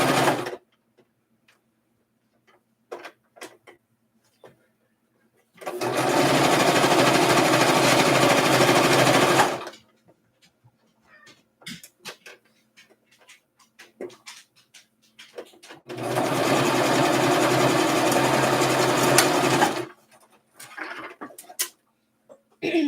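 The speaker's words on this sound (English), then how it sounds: "then you can turn it around and sew back the other way" Sewing machine stitching a makeup bag, two sustained bursts of steady mechanical whirring of about four seconds each, separated by quiet stretches with small handling clicks.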